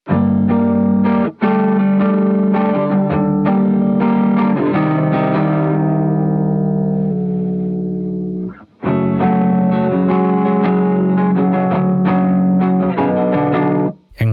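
Electric guitar run through an octave pitch-shifting setting on an EHX Pitch Fork pedal, distorted chords and riffs ringing out with a brief sustained passage and short breaks.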